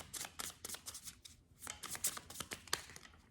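Tarot cards are being shuffled by hand, giving quick, close riffling bursts and crisp snaps in an irregular rhythm, fairly quiet, with no speech.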